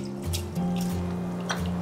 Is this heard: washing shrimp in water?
yes